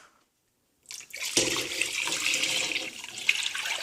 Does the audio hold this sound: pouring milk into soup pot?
yes